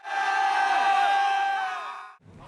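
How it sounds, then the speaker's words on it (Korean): Some seventy trainees in a rescue-diver experience program roar together in a loud, rough crowd shout while hoisting a rubber boat weighing over 100 kg overhead; the sustained yell fills about two seconds, then cuts off into fainter noise. "100kg이 넘는 고무보트를 머리 위로 든 참가자들이 거친 함성을 지릅니다."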